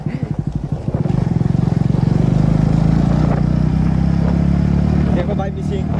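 Motorcycle engine revving up from a sputtering start into a strong, steady drone at a water crossing, loud and close, then easing off near the end while people talk in the background.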